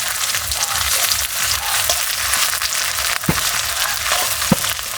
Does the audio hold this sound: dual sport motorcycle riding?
no